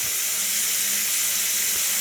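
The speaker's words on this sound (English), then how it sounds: "I'm going to put me some hot water in my sink" Hot water runs from a tap into a bathroom sink as a steady, close, hissing rush with no pauses or voices.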